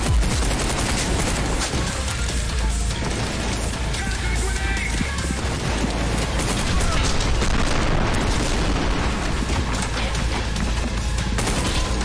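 Grenade explosions in a first-person shooter video game, a dense, loud wall of blasts and gunfire that continues for the whole stretch without a break.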